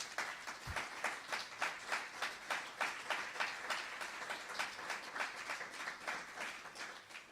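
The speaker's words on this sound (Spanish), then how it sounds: "Démosle un aplauso a nuestro Señor." A church congregation claps in a steady rhythmic beat that runs for several seconds, fairly faint and distant, with no talking over it.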